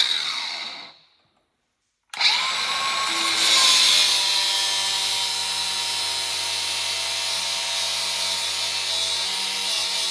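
Angle grinder cutting through a flex shaft chain: after a short pause the tool spins up abruptly into a loud, steady high-pitched whine and grinding hiss that holds evenly to the end.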